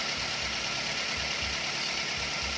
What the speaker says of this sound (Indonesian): Ini merupakan mesin K3VE untuk Toyota New Avanza tahun 2014.